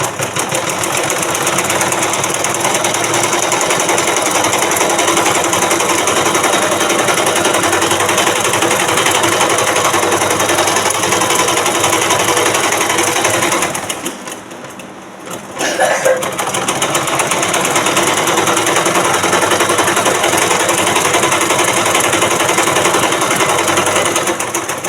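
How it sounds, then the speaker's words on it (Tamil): A sewing machine runs a steady, continuous stitching buzz along a blouse lining, close and loud, pausing briefly about two-thirds through before resuming at the same even pace. "இனி இதை இப்படி திருப்பி நம்ம லைனிங் பக்கமாக ஒரு தையல் நம்ம போட்டு விட்டுருவோம்."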